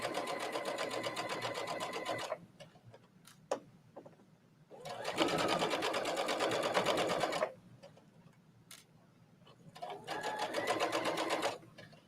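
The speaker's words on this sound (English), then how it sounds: "And I'm going to stitch all the way down to the corner, but not through." Brother sewing machine stitching fabric in three loud, steady bursts of rapid needle clatter, separated by short pauses filled with faint clicks and handling noises.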